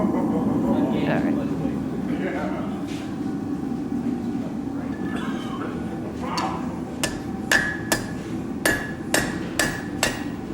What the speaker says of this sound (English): I'm going to hammer the outside edge.